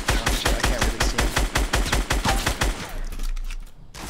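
Rapid bursts of automatic gunfire in Fortnite Battle Royale, a steady string of close, loud shots for nearly three seconds before fading into quieter distant pops.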